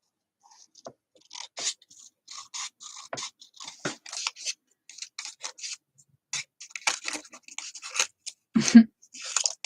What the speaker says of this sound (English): Got a little long there for my teeny tiny scissors.